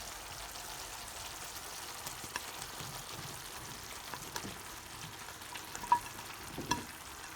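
Eggplant cooking in softened tomato curry in a pan, a faint continuous sizzle with occasional soft scrapes and clicks of stirring.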